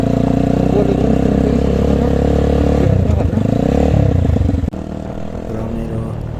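A Motorhead Scrambler 250 motorcycle engine idling and revving loudly up close, a steady throbbing exhaust note that rises and dips, then settles to a lower idle.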